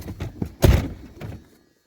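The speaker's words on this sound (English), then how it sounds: "Let's shut the door." A car door shut once with a solid thunk midway, amid quiet handling noises before and fading afterward, on a car that is struggling to start with a dead battery.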